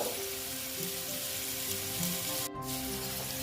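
Turmeric-coated potatoes sizzle steadily in hot oil close by, with a brief sharp clack partway through.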